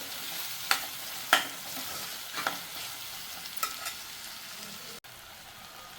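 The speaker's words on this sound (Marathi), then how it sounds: "आता ह्यामध्ये मी टॉमॅटो घालते आणि टॉमॅटो पण छान एकजीव करून घ्यायचा आहे तेलामध्ये" Softened onion and tomato fry in oil for a chana dal, a low steady sizzle punctuated by several crisp spoon scrapes and clinks against the pan as the mixture is stirred.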